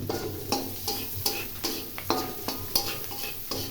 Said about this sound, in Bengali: এগুলো কিছুক్ষণ জাল দিয়ে এই করা হচ্ছে, ভাজা ভাজা করা হচ্ছে